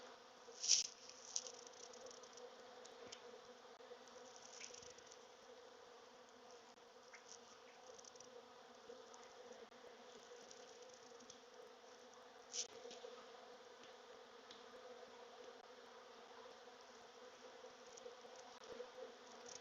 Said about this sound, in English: I'm seeing some young bees though.